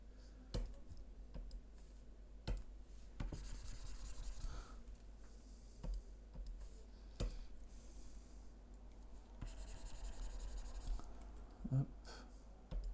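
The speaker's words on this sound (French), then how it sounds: "Donc là, je gomme." A pencil drawing is erased on paper, a faint, soft scrubbing and rubbing under scattered light clicks and taps, close by in a quiet room.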